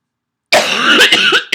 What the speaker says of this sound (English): My apologies for coughing in your ear.